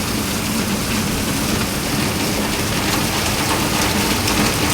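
Heavy typhoon rain and strong wind at a deserted terminal make a loud, unbroken roaring hiss with no pauses, pelting steadily throughout.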